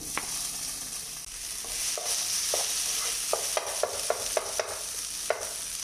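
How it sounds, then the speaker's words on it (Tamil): Cooked chicken and potato go into a pan for chicken potato cutlets, with a continuous sizzle under a series of sharp spatula scrapes and taps against the pan, coming in a quickening rhythm toward the end. "சிக்கனும் உருளைக்கிழங்கும், அதுவும் இதில் சேர்த்துக்கிறேன்"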